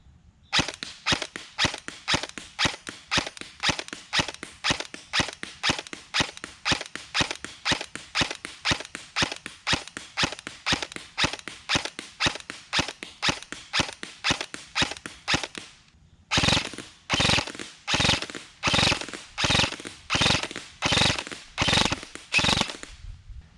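VFC HK416A5 airsoft rifle firing .3 gram BBs on a range, a long run of sharp, evenly spaced shots close by, then after a brief pause a louder, slightly slower burst of shots, with no talk.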